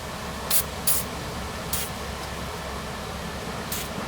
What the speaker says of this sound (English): Now I give a spray so it loosens up.